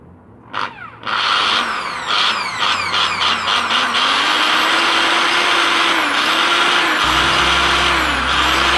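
A repaired Kawasaki electric drill is switched on for a test, spinning up after a couple of brief bursts into a loud, steady motor whine with a faint rising pitch, running continuously up close.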